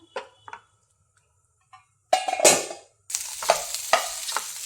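Squid roast being stirred in a frying pan, with a few soft scrapes followed by loud bursts of sizzling and frying as the spoon moves through, close and without talk.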